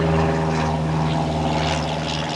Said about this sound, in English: A lot of planes.